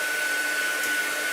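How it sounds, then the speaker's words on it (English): A hair dryer runs steadily at close range, a loud continuous airy whoosh with a faint whine, used to heat the adhesive under a sticker. "heat it up with your hair dryer or a heat tool"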